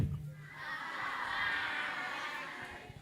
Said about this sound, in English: Simon says spin around and yell hi.